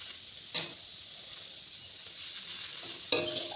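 Sago frying in a pan gives off a soft, steady sizzle, with two brief scraping clinks as it is stirred; fairly quiet, no talking.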